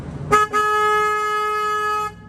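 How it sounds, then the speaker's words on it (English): A car horn gives a short toot, then one sustained loud honk lasting about a second and a half, close by. "I'm going to honk the horn real quick."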